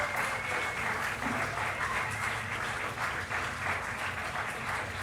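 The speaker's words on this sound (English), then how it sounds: "let's get a good round of applause for both teams for playing a really great game today" A crowd applauds both teams after a high school all-star Ultimate game, with sustained steady clapping at a moderate distance for several seconds.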